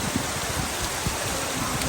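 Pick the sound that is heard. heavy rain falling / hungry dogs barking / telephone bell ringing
heavy rain falling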